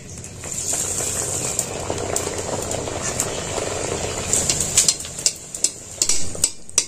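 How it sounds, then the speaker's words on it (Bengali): A rolled Dhakai paratha fries in hot oil with a continuous crackling sizzle, joined by sharp spattering pops that become more frequent toward the end. "এবার এটা আমি ভেজে নেব।"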